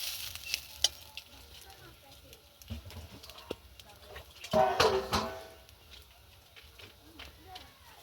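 Rice fries in a pan for basanti pulao, stirred with scraping clicks over a faint sizzle, with a louder stirring burst in the middle and other faint background sounds.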